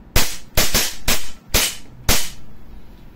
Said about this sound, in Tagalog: Semi-auto. Firing.